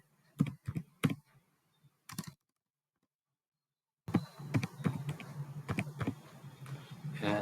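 Keys clatter on a computer keyboard in quick, close clicks, first in two short bursts, then a brief silence, then a denser and steadier run of typing.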